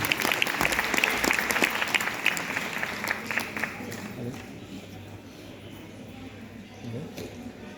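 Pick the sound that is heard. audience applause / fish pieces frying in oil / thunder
audience applause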